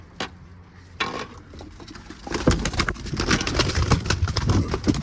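Pigeons flutter and coo close by, with soft wing flaps and scuffling that grow into a busy, continuous rustle of birds.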